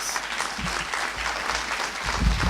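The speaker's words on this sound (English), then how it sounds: "Another round of applause." Audience applause at a Christian diaspora conference session, a steady full wash of clapping from a large crowd that swells slightly toward the end.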